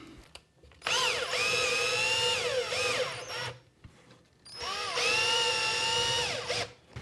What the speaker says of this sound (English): So let's use the driver here that I have